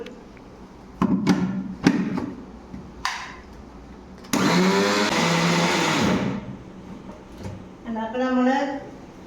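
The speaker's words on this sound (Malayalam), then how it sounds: "ഇതൊന്ന് മിക്സിയിലിട്ടിട്ടൊന്ന്" Mixer grinder blending greens for puttu, with short bursts and then a loud two-second whirring run, followed by a quieter pulse, with clatter and a person speaking around it.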